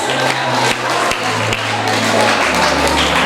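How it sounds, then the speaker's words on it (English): Loud, dense applause from a crowd fills the room, with steady clapping and a low hum beneath. "Can we give her a round of applause?"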